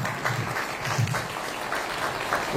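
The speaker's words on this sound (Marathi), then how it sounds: "जोरदार टाळ्या वाजवून." Applause at a Mumbai police ceremony handing over recovered property, a steady dense clapping from an indoor audience, continuous and moderately loud throughout.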